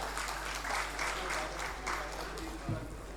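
Clapping from an audience at a televised conclave in Odisha welcomes a minister to the stage. It makes a steady patter of applause under a loud announcer's voice.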